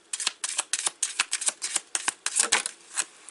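Tarot cards being shuffled by hand, a quick run of crisp papery riffles and slaps repeating in close, steady bursts with no talking.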